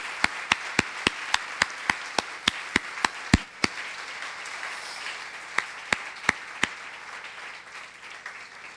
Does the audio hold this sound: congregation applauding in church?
yes